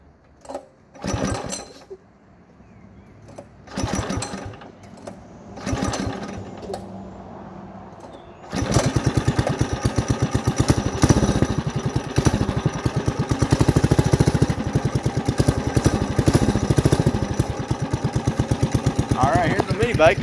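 A small mini bike engine putters to life after some handling noises, then runs at a fast, steady, buzzy idle for over ten seconds, close and loud, with brief talk early on.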